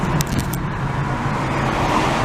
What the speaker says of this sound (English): A very busy street.